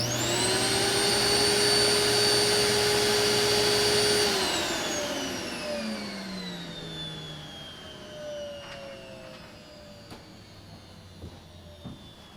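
A Modern Day M715h central vacuum unit with a muffler and no outside vent runs with a steady high motor whine and airflow roar, then shuts off and spins down, its pitch sliding lower over several seconds before faint clicks remain.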